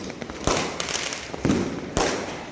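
Firecrackers burst in the distance during Uttarayan festival celebrations, three sharp cracks about half a second apart over a steady crackling background, with no talking.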